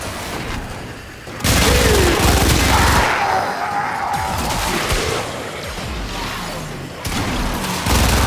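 Titania Prime's machine pistols in Warframe, loud sustained rattling bursts of rapid fire that cut in abruptly and stop, layered with game effects and little speech.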